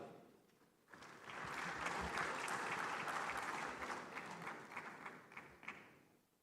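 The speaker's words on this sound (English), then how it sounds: "He didn't hear the applause" A conference audience at the Afreximbank Annual Meetings breaks into applause after a quiet moment, building to a full, steady round of clapping that fades slightly toward the end, heard from some distance.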